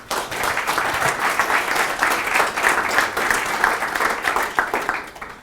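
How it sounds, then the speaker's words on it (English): A conference audience at SwiftConf 2016 breaks into sustained, full-room applause for a speaker, many hands clapping densely and steadily before it trails off. "Round of applause."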